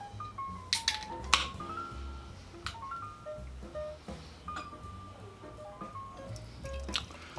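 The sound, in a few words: opening and pouring a double India Pale Ale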